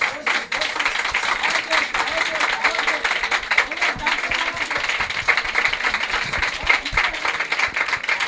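A church congregation applauds loudly, dense clapping filling the room steadily throughout, with voices calling out beneath it.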